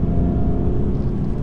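A BMW M2 engine revs as the driver blips the throttle, a loud, close, steady low rumble that fills the cabin with no voices.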